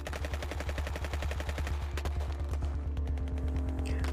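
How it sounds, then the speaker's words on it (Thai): Rapid bursts of automatic gunfire, a steady rattling rhythm of shots over about four seconds, sounding somewhat distant and echoing. "เสียงปืนดังมาจากที่ไกล"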